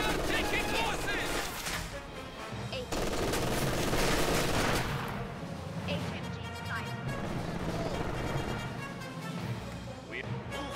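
Machine gun fire in the World War II strategy game Company of Heroes 2 on a winter battlefield, dense rattling bursts mixed with battle din, with unit voices shouting over it.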